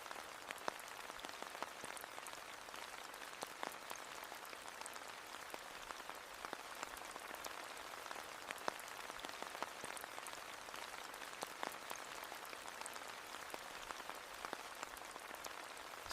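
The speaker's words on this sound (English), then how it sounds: "Slowly, the downpour begins to let up." Steady rain falls on an open meadow, a dense, even patter of drops spread across the whole span, quiet and continuous with no voices.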